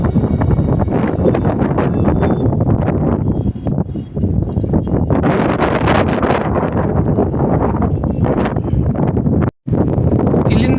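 Strong wind buffets the top of Koppal fort in Karnataka, a loud continuous roar and rumble against the microphone that lasts throughout, with only a brief gap near the end.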